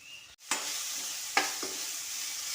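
Steady frying sizzle of garlic sautéing in hot oil fills the pan, broken by a couple of sharp stirring scrapes and clinks; no voices.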